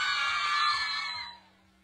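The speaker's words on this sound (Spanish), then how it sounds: "Aplauso para el filetito." An audience at an outdoor contest cheers and shouts for a contestant, a loud burst of crowd whoops that holds for about a second and then fades away quickly.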